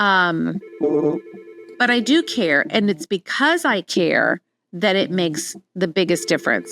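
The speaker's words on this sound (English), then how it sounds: "Sorry about the phone ringing." An office or home telephone rings in short repeated bursts, steady and fairly clear, underneath a speaker who keeps talking through it.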